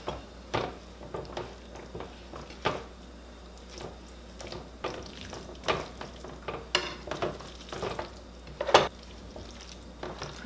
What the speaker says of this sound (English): I'm adding my spaghetti noodles.